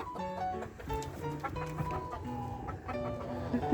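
Chickens clucking close by in irregular bursts of short, throaty calls, continuing throughout the moment.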